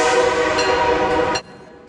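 A train, loud and close, with a sustained horn-like tonal blare over heavy rumble that cuts off sharply near the end, leaving a quieter low rumble.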